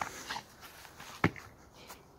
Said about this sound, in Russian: Вот такой вот пес.